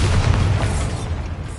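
Bombarda explosion spell cast in the Hogwarts Legacy video game, a single deep booming blast with rumbling low end that decays over about a second, close and loud.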